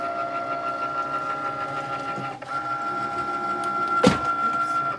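An electronic cutting machine loads its mat with a steady, fairly loud mechanical whir and hum, broken by a brief dip and then a sharp clunk near the end.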